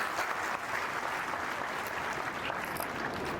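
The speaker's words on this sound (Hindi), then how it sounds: "अरे ताली बजाने का मन कर रहा है तो बजाओ" An audience at an orientation ceremony for a motivational speech bursts into sustained applause, dense and steady clapping from a large crowd throughout, with no talking over it.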